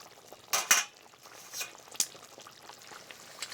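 Fish head curry with lentil dumplings stirred in a pot, a few sharp metallic clinks of a utensil against the pot followed by softer scraping and light bubbling, close and brief with no talk.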